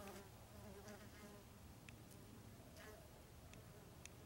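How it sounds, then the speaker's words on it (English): Bees buzz among flowers outdoors, a faint, continuous drone with individual insects passing close and a few light clicks, and no speech. "Lots of bees."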